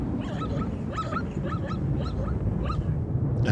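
Faint, high-pitched whimpering calls from a lame zebra foal repeat in short bursts over a steady low background rumble, thin and plaintive.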